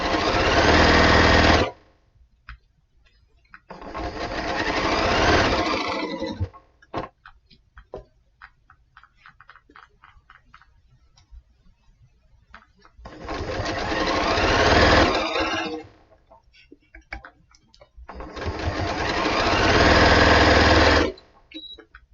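A sewing machine stitches the final seam of a quilt block in four loud, close bursts of rapid whirring, separated by quieter gaps with small clicks and handling noises.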